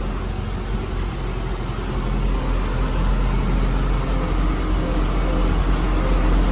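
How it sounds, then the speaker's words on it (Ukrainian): A tractor engine runs steadily while driving through a millet field during desiccation spraying, a continuous loud low rumble with no breaks. "Пливемо на тракторі, попросто не їдемо."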